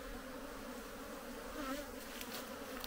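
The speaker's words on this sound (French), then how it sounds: "on va secouer les abeilles." Honeybees are being shaken off hive frames, a dense, steady buzzing swarm that sounds fairly close but quiet, with some brief rustling knocks late on and no talking.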